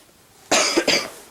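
A person with a lingering cold gives two quick, harsh coughs close by, a loud first burst followed by a shorter second one, with no talking around them.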